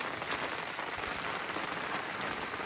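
Heavy monsoon rain falls steadily, a dense, even hiss of drops with a few sharper spatters, continuous and fairly close.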